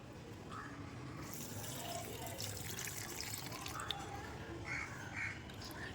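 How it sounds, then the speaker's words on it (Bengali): Water running and splashing as potted house plants such as jade and money plants are watered, a soft, continuous trickle with faint birdlike chirps in the background. "চলো গাছে একটু জল দিয়ে নিই।"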